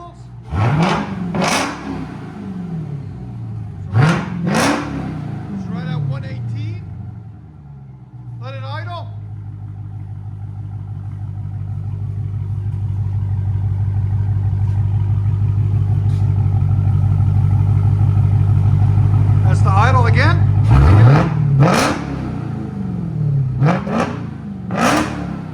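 Dodge Hellcat Redeye exhaust through Big Boz 4s mufflers barks out several quick loud revs, settles into a long swelling rumble, then blips hard twice more.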